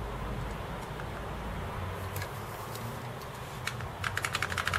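Keys pressed on a Commodore Amiga A600 keyboard with a keyboard fault, soft clicks over a steady background hum, ending in a quick cluster of key presses.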